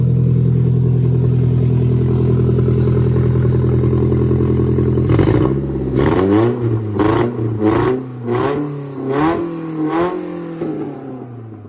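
Car engine fitted with a hood stack idles steadily, then revs hard in a series of about seven loud, close throttle blips that rise and fall, with no talking.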